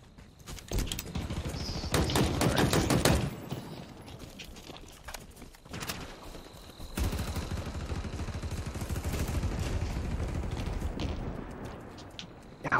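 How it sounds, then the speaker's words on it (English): Gunfire in Halo Infinite on Xbox arrives in rapid clusters of sharp shots, with a dense burst early on and another sustained volley later, separated by quieter stretches. "Why is everybody shooting me?"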